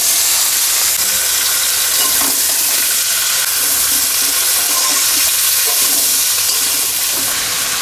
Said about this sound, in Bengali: বেগুন ভাজার তেলে ফোড়ন দিয়ে দিচ্ছি, জিরে ফোড়ন, অল্প পেঁয়াজ কুচি